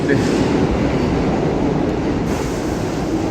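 A New York City 7 subway train heads toward the 34th Street–Hudson Yards terminal with a loud, steady rolling roar and rumble, heard close up from on board.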